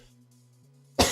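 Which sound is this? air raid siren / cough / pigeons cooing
cough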